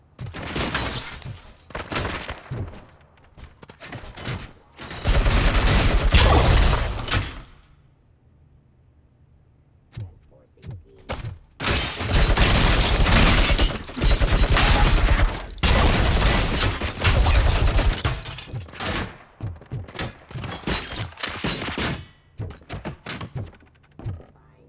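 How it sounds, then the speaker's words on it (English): UED robots firing guns in RoboCop Rogue City, dense bursts of loud rapid gunfire with sharp impacts, broken by a short lull before heavy volleys resume. "those UEDs shoot so beautifully. Too bad they're shooting at me."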